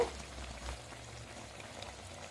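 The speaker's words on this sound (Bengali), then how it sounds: "2 মিনিট আমি চাপা দিয়ে সেদ্ধ করে নেবো।" A pot of Bengali potato and aubergine curry simmers under a lid, a faint, steady bubbling hiss with no other sounds.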